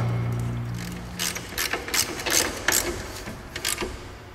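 A ratchet wrench clicking as a rear brake caliper bracket is reinstalled on a car, giving a close series of quick ratcheting bursts in an uneven rhythm with no talking.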